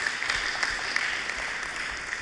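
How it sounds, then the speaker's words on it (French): Audience applause at a PDCI-RDA press conference, a dense, even wash of clapping from a seated crowd, moderately loud and continuous without talk. "Je voulais qu'on l'applaudisse."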